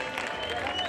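Crowd applause at a rural boxing event in Oaxaca after the winner of a bout is announced, a steady wash of clapping under a murmur of voices.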